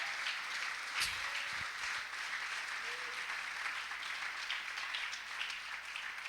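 Church congregation applauding together, a steady wash of many hands clapping throughout at moderate level, with no talk over it.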